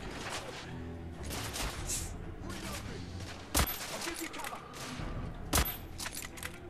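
Gunfire in The Order: 1886, two sharp, loud shots standing out from a dense, busy game soundscape.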